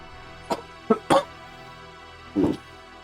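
Several short, muffled coughs in a quiet room, three in quick succession followed by one more after a pause.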